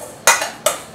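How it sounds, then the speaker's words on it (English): A utensil stirs seasoning into food for oven-fried chicken, giving two short scraping bursts against a dish, close and fairly loud with a quiet pause between them. "And now I'm just going to stir this around."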